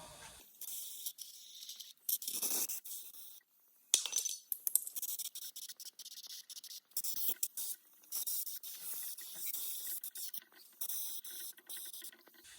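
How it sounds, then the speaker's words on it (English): Brake cleaner sprayed onto the dirty, dust-covered brakes of a 2015 Mercedes Sprinter van, coming as repeated short and longer hissing bursts with brief pauses between them, close up and without talk. "So I'm going to get some brake cleaner and clean all that off."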